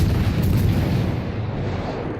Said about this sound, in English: It's just the rapid fire of this ship.